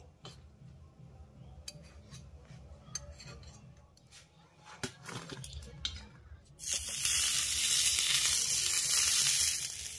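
Chitoi pitha rice cakes cooking in a pan begin with faint ticks and soft clinks, then a sudden loud, steady hiss of sizzling takes over for the last few seconds.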